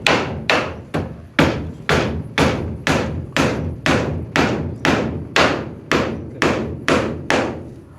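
Steady, forceful hammering on a nail: roughly fifteen close, sharp thuds in a brisk, even rhythm that carries on without pause.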